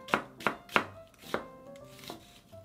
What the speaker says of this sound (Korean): 양파 반 개는 두껍지 않게 채 썰어 줄 겁니다